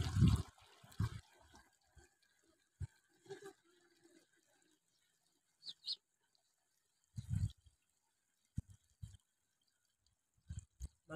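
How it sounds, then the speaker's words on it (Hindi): Water is poured into the tank of a pesticide spray pump. Short splashing and gurgling bursts are separated by quiet gaps, and the sound is close and fairly faint. "इसमें डालेंगे पानी और दवाई।"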